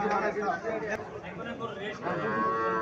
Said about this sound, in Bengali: একটা বাছুর দেখা যাচ্ছে, ছোট বাছুর